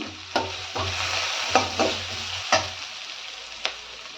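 Chopped garlic added to glassy onions frying in a pan, a soft steady sizzle broken by several sharp utensil knocks and scraping strokes at irregular intervals, close by, with no talking.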